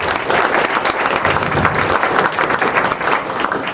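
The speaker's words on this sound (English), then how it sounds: "Can we give them a round of applause" An audience at a sustainability breakfast talk on carbon sequestration applauds in a steady, dense burst of clapping that fills the room without pause.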